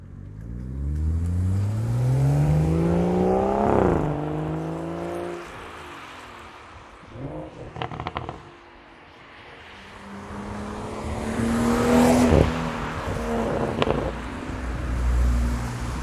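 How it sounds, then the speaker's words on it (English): A BMW M140i fitted with a Remus exhaust passes outside, its engine note rising through the gears with a loud rasp, easing off, then building again in a second drive-by on a cold December road. "So we'll just have some outside drive-bys, but I'm not really going to floor it because you'll just hear wheel spin."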